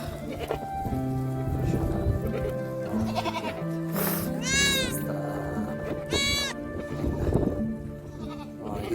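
A mixed herd of goats, sheep, lambs and kids heads out to pasture. Two distinct bleats a couple of seconds apart stand out midway through over shuffling, outdoor clatter and indistinct voices.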